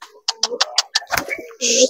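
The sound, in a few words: pigeon cooing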